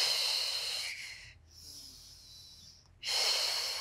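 Slow breathing during a beginner pilates mobility exercise: a long hissy exhale, a quieter pause with a soft inhale, then another strong airy exhale, close to the microphone with no talking.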